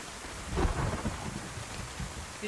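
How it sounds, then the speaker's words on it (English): Steady rain pouring in the video game DayZ, with a soft roll of thunder rumbling early on under the constant hiss of falling water. "That rain sounds amazing."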